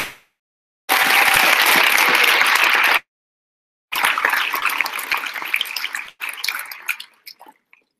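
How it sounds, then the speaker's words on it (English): Loud, dense audience applause at an opening ceremony, two sustained bursts of clapping separated by a brief pause, the second thinning out and tapering off into scattered claps. "Let's give them a big round of applause."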